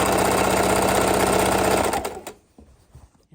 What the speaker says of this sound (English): And sewing that straight line.